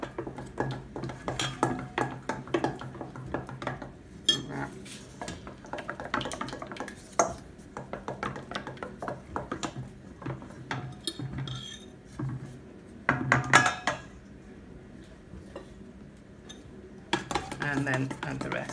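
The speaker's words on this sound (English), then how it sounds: "Okay, so you put a tiny bit in and stir." A utensil stirs a hot mixture into egg yolks in a pan, making repeated scraping and clinking strokes at close range, with a few louder knocks against the pan's sides.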